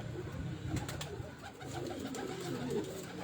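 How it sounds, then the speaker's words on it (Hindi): A Lakha pigeon coos softly and repeatedly at close range, low throaty murmurs over faint background noise. "हमाद भाई के घर का लाखा कबूतर जी, बड़ा परफेक्ट कबूतर है माशाल्लाह।"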